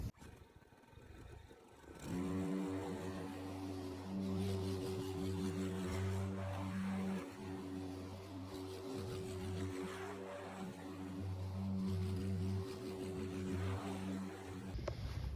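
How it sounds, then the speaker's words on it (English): Yardmax 22-inch self-propelled gas lawn mower climbing a grassy incline, its engine starting up after two seconds and then running at a steady, close, moderately loud drone with grass-cutting rustle throughout. "demonstrate how well this Yardmax mower works on the incline here"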